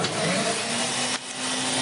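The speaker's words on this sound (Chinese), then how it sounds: "这是一个48伏的吸尘器" A 48-volt vacuum cleaner on a compact LPG steam car wash machine running close by, a steady loud whooshing motor drone with a steady hum and a brief dip in airflow partway, no talking.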